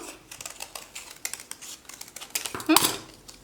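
Scissors cutting a half-heart shape from folded paper for a pop-up card: a string of small crisp snips and paper rustles at close range, building to a louder crunchy cut near the end, with no talking.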